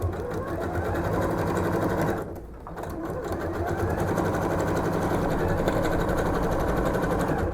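Domestic sewing machine with a ruffler foot gathering two layers of fabric, running loud and steady close by with a brief pause near the start, alone without talk.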